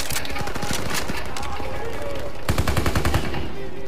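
A BAR rifle firing in the video game Call of Duty WW2, loud rapid automatic gunfire in steady bursts with battle noise throughout and a heavier volley near the end.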